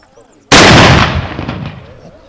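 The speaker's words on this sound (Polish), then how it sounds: "Cześć powstańców oddano salut z armaty wywiadówki." A cannon fires a commemorative salute to honour insurgents at a rally stop, one sudden, very loud close boom that rolls off into a fading rumble.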